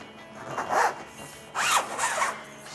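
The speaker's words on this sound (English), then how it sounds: "Unzip this." Zipper on a Jeep Gladiator JT WildTop soft truck cap being unzipped in two separate pulls, a shorter rasping stroke followed by a longer one, close and fairly quiet with no talking.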